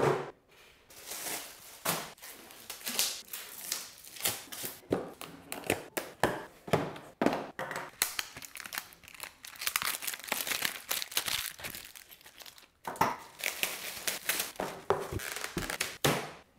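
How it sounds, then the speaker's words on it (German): Packaging from a Riese und Müller Cruiser 2 Vario e-bike delivery is unpacked, with continuous close crinkling of plastic and cardboard, tearing, rustling and scattered taps throughout, and no talking. "Jetzt habe ich alles ausgepackt,"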